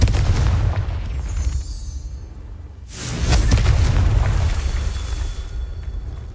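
A fire spell explosion from the Hogwarts Legacy video game: a heavy, rumbling blast swells and then fades, followed by a second deep burst that rolls on loudly with no talking.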